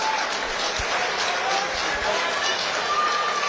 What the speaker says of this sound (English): Give a round of applause for these guys